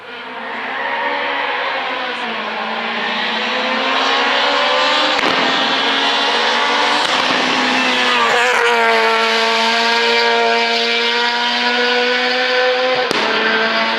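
A Nissan Almera race car on a hill climb course at Chamrousse, the engine roaring loud and close, rising and falling in pitch through the gears with sharp shift breaks.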